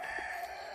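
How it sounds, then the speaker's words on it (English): A rooster crowing, heard faintly and briefly as a short stretch of call in a quiet outdoor setting, with no talk. "Come on, roosters! Stop crowing!"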